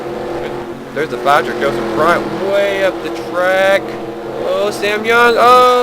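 Race trucks in a racing video game roar around a track with rising and falling engine whines, steady and loud under excited commentary from a voice.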